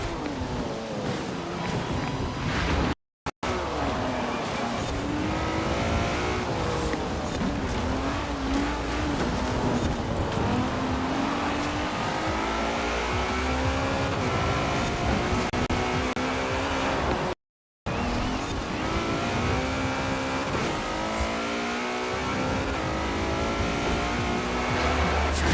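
A lowered, full-power, weight-reduced race car with no aero in Forza Horizon, its engine revving loud and continuous with rising and falling pitch sweeps through gear changes, two brief cutouts breaking the steady roar.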